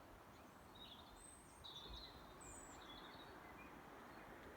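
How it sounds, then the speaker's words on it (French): Birds sing faintly in scattered short whistles and trills over a steady low background wash, distant and quiet on a seaside cliff at Perros-Guirec. "Et toujours le chant des oiseaux pour vous accompagner."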